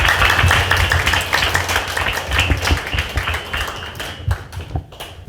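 Audience applause welcoming a priest to the podium at a Korean book launch event, a steady wash of many hands clapping that thins out toward the end, with a few isolated claps trailing off.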